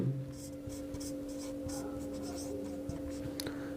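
A pen writes a note during a Hindi maths lesson on number systems, giving soft scratchy strokes in short bursts over a steady low electrical hum, close and fairly quiet.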